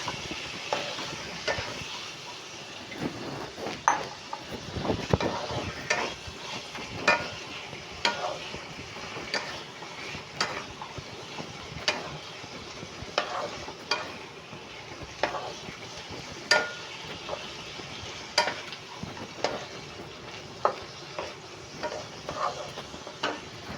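Marinated chicken pieces sizzle and fry in a pan for chicken soup, with a steady hiss under repeated scraping stirs and occasional clanks of the spoon against the pan, close and moderately loud.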